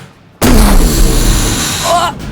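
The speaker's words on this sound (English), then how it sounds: "as a cannon slams into the left side of the ship." A cannon blast slams into the left side of a pirate ship as a sound effect: one sudden, loud boom that rolls into a long, heavy rumble, fading near the end.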